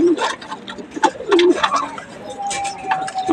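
Young racing pigeons in a loft coo repeatedly in soft, rolling calls close by, several birds overlapping with faint chirps between them.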